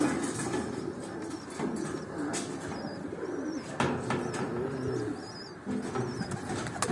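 Soft coos from tumbler pigeons repeat under a busy outdoor background, with occasional wing flutters and distant rumbling.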